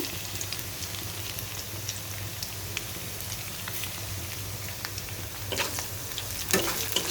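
Mustard seeds frying in hot oil in a pan for haleem, a continuous crackling sizzle with scattered sharp pops that grow denser and louder toward the end, heard close.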